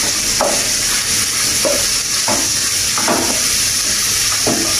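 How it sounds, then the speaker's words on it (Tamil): Carrot and chilli stir in a hot frying pan with a steady high sizzle, while spoon strokes scrape through at irregular moments, close and fairly loud. "இந்த கேரட், இந்த கறிமிளகாய், இதெல்லாம் போட்டு மிக்ஸ் பண்ணிடுவோம்."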